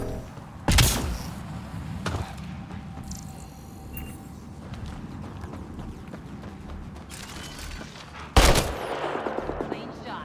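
Gunfire crackles in a firefight on the desert world Elaaden in Mass Effect Andromeda: a sharp close shot, a second a moment later, then a louder burst of rapid shots near the end over a low rumbling background.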